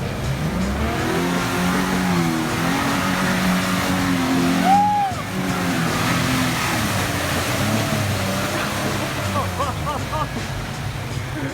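Toyota FJ Cruiser driving on a muddy trail, its engine droning steadily with rising and falling revs, loud and close throughout, while voices talk over it.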